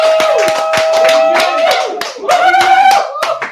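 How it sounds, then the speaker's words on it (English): Applause from a live audience at a cooking event hosted by a chef, a burst of hand claps with music and tonal sounds running underneath, growing louder again toward the end. "Everyone, can you please applaud so it's not awkward?"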